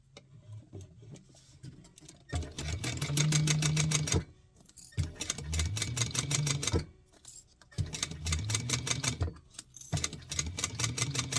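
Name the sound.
sewing machine basting a lining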